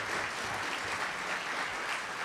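Audience applause at a congressional candidates' debate in Loudoun, Virginia: a steady, moderately loud wash of many hands clapping together, sustained evenly without voices.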